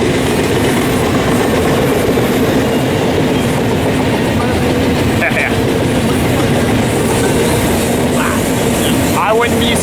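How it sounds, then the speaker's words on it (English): An eastbound double-stack freight train rolls past at speed near Barstow, California, a loud, steady rumble with rhythmic wheel clatter and a faint squeal, close by and continuous throughout. "This stacker's not wasting any time moving eastbound."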